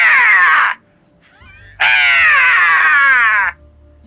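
A voice imitates the harsh, yelling cry of a seagull in the Chicken Police video game: two loud, raspy, wavering calls close up, the first short, the second longer, split by a brief quiet gap.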